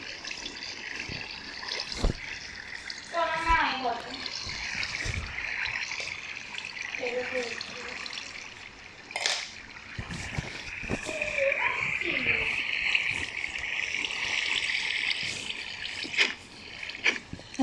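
Water trickling and bubbling while a game character stays underwater in a video game, with a steady liquid wash and occasional splashes. Talk runs throughout.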